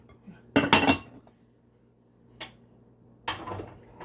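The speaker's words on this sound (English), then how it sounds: "Okay, so you're going to mix that in together" Cornstarch being stirred into apple donut batter in a bowl makes several short clinking bursts of utensil against the bowl: a loud cluster near the start, a faint tap mid-way, and another strong scrape toward the end, with quiet between.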